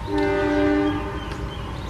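A commuter line train heading toward Garut station sounds its horn in a loud, sustained tonal blast that fades into rumbling rail noise as it departs.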